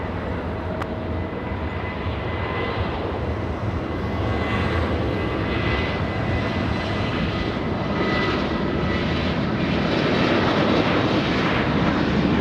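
An airplane arriving at LAX airport gives off a loud, steady engine roar that lasts throughout and builds slightly toward the end, heard alone with no talk.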